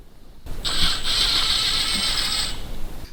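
Ratchet wrench working on a bolt on the oil filter housing of a salvaged Mustang Mach 1, a steady close buzzing ratchet run lasting about two seconds after a knock, with no talk.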